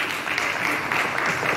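A church congregation bursts into steady, dense applause to acclaim the Lord during a Christian service, a continuous wash of clapping that stays loud and even throughout.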